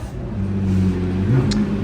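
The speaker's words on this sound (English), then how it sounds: "So here is a Huayra Roadster" A Pagani Huayra Roadster engine hums at a steady mid pitch, then rises in a brief rev near the end. It sounds loud and fairly close, with no talk over it.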